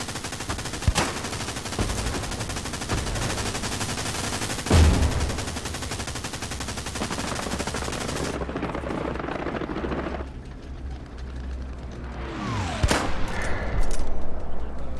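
Machine gun fire in Hell Let Loose rattles in loud sustained bursts alongside a droning helicopter, with sharp louder shots punching through before the background drops and the firing returns.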